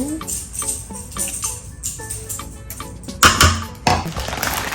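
Chili ladled into a bowl: a series of clinks and scrapes of a spoon against the bowl, irregular and close, with a couple of sharper knocks near the end.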